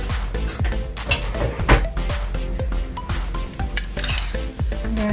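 Spoon scooping coffee jelly into an iced Dalgona coffee drink: steady clinking and scraping of metal against glass and ice, close and fairly loud, continuous rhythmic stirring sounds with no talking.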